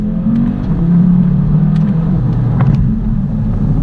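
An Audi TT RS sports car launches and accelerates hard, its engine producing a loud, steady low roar that holds strongly throughout with no speech over it.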